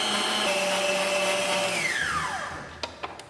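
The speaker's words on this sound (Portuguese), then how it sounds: "agora eu vou ligar aqui a nossa batedeira" An electric stand mixer whips fresh cream with 35% fat content, its motor giving a steady, close whine that winds down in pitch and stops, followed by a few light clicks.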